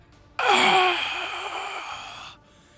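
A game master voices a character's gasp during a homebrew Dungeons & Dragons fight session: one sharp, close, breathy intake that trails into a long audible exhale lasting around two seconds, heard alone.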